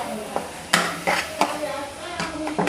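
A utensil stirs thickening sugar syrup for coconut barfi in a pan over high heat, making several separate scraping strokes against the metal at close range with a faint sizzle underneath.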